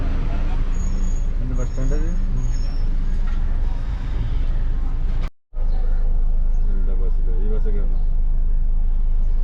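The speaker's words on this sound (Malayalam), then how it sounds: "അടിപൊളി ബസ്സാണത്." A bus on the Kothagiri ghat road in the Nilgiris rumbles past with a steady low engine drone and road noise, a brief dropout midway, under faint background voices.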